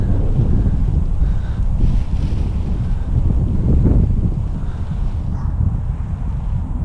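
Gusty Santa Ana wind of over 20 mph buffets the microphone at a local park during kiting, a steady loud rumble that surges and eases in waves without a break.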